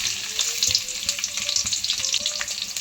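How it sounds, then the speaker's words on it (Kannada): Chopped onion hisses and crackles in hot oil, a dense continuous sizzle close by with soft stirring knocks and faint low background hum, no voices. "ಈಗ ಎಣ್ಣೆ ಕಾದತ್ತಿ. ಈಗ ಉಳ್ಳಾಗಡ್ಡಿ ಹಾಕಿ."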